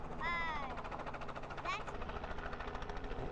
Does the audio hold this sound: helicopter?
yes